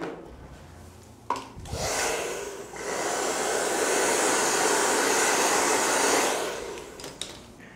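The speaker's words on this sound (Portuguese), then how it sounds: "Agora eu vou passar o secador aqui para tirar esse excesso de cabelo." A hair dryer blows cut hair off a child's fresh haircut, running steadily for several seconds, a loud continuous airy roar that starts after a brief click and cuts off near the end.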